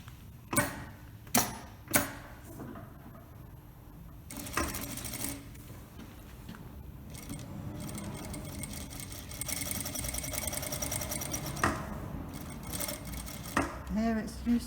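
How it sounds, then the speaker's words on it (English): A sewing machine top stitches along the very edge of a shirt, with bursts of rapid mechanical whirring and ticking alongside scattered clicks and handling noises, close and fairly quiet. "So we're going to top stitch on the very edge just to catch it down."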